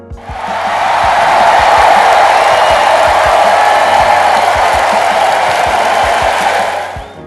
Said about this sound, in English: come on, clap it up, people